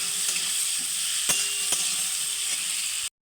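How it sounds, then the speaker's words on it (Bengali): Chopped onions frying in hot oil for a thin chicken and potato curry, a steady close sizzle broken by a few sharp clinks and scrapes of a stirring spatula, with no talking. "পেঁয়াজটা ভালো করে লাল লাল করে ভেজে নেব।"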